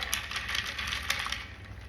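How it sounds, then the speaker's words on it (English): A drink with ice being stirred in a glass, close rapid clinking and rattling of ice against the glass in uneven bursts for a couple of seconds. "I'm going to stir it up"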